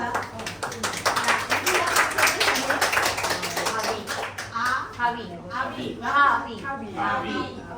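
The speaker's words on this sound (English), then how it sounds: "Maybe we give her a loud applause" A study group applauds a newly joined member: a few seconds of brisk, close clapping from a small gathering, tapering off as people begin talking over it.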